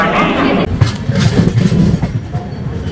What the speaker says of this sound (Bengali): এই যে হাওড়া রক্সোল মিথিলা এক্সপ্রেস